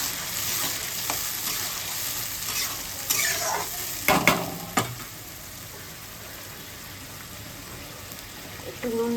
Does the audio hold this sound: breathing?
no